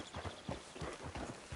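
Horse hooves clip-clopping in Red Dead Redemption, a steady walking rhythm of soft, fairly faint hoofbeats landing in regular pairs with no talk over them.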